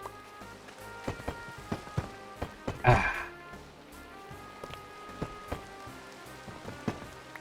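Rain falling in Minecraft, a steady hiss and patter of drops with scattered louder taps and one brief burst near the middle, at moderate level with no talk.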